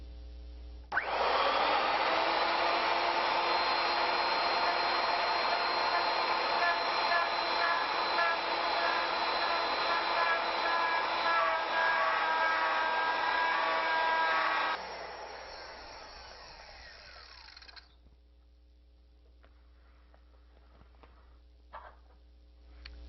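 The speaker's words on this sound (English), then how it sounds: "I'm using a 2-flute straight cutter bit. What we're going to do is part this to ensure a square corner." A router with a two-flute straight cutter bit cuts into walnut for a cane handle, a loud sustained high whine with cutting rasp for about fourteen seconds, then the motor winds down and fades to near quiet with faint clatter.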